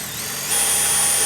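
Power drill biting into a metal bar hidden inside a Fatboy DP combo piece, bits snapping along the way; a steady, loud, high whine that rises sharply halfway through and holds, close up with no talking.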